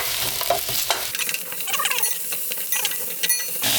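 Onion and carrot stir-frying in hot oil for spicy Korean stir-fried pork, a steady crackling sizzle with scraping and clattering of a utensil against the pan, close up.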